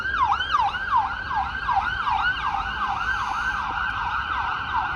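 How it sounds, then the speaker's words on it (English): Ambulance siren wailing in rapid repeating sweeps on a Toronto street near Finch West in winter, fairly clear but at a moderate distance, with no talk. "That's the ambulance."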